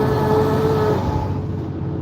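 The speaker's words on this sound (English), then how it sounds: "But you hear that diesel" Diesel engine of a gravel truck rumbling close by on the road, a steady low drone heard continuously from a passing car.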